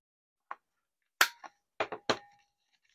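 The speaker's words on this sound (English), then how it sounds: "And then I will round the corner of the outside." Several sharp, dry clicks and clunks from a corner rounder punching through the outer corner of a 6 x 6 paper mini journal, spaced irregularly with short silences between them, close and fairly loud with no talking.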